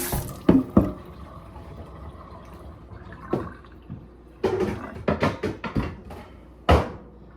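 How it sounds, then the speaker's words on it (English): An item is rinsed under a kitchen tap. Water splashes intermittently in short bursts, with gurgles and clatters as the item is handled in the sink, and there are quieter stretches in between. "just gotta rinse this off"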